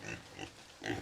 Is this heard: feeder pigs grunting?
yes